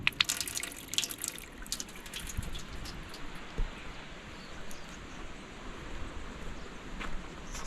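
Water running from a wash basin tap in the toilet block at a free campground near Lorne, a steady splashing flow with a few sharp drips and clinks, close and fairly quiet.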